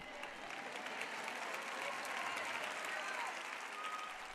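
An audience claps steadily through the whole stretch, a dense even wash of applause at moderate distance without pauses or voices standing out.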